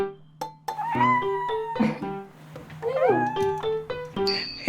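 A pet cat meows repeatedly up close indoors, drawn-out rising and falling cries with a few short chirps between them, loud and distinct.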